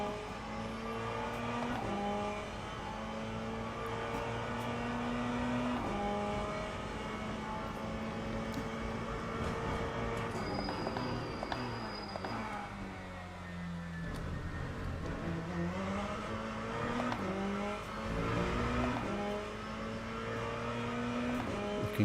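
A Ferrari race car in the Le Mans Ultimate racing game, its engine droning steadily and rising and falling through gear changes while it bounces over the curbs, with a brief tire squeal partway through.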